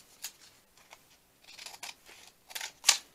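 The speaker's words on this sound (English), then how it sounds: "I might cut this aside." Scissors snipping through quilt scraps for a junk journal craft, a few short crisp cuts in quick bursts, close and fairly quiet with pauses between.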